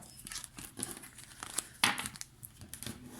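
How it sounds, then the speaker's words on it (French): Tarot cards from a Morgan Greer deck are drawn and shuffled, giving soft papery crinkles, rustles and a few sharper flicks and snaps at close range, with no voices. "On va prendre 3 cartes."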